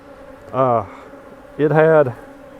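Honey bees buzzing close by at a weaker, recently requeened hive, heard as two short droning passes, each under a second, separated by a quiet pause.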